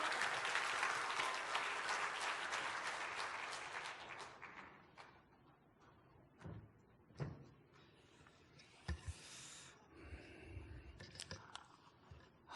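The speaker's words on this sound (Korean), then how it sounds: "박수 한번 치십시다" Church congregation clapping at a twentieth-anniversary founding and ordination service, a dense burst of applause that swells loudly for several seconds, then thins and fades, leaving scattered knocks and a few distant thuds.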